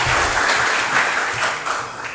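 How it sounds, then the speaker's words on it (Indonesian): A seated crowd at a talk gives steady, moderately loud applause as a guest speaker is invited to the stage, a short even patter of many hands. "Tepuk tangan Bung Rocky"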